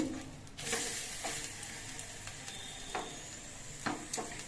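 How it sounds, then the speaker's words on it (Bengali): Pancake batter fries in a nonstick pan with very little oil, giving a faint, steady sizzle broken by a few soft scrapes from flipping, with no one speaking. "এটার আরও এক পিঠ কিছুক্ষণ ভাজা হওয়ার পর আমি উল্টে দিচ্ছি"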